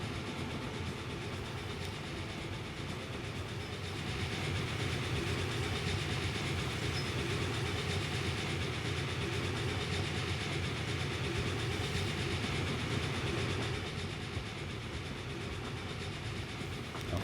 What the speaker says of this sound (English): Now we got ourselves a train.